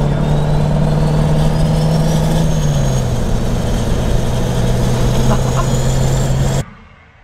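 A 1200 hp LLY Duramax diesel truck runs with a loud, steady low engine drone, turbo whine and exhaust rumble, its pitch dipping slightly midway before cutting off abruptly near the end.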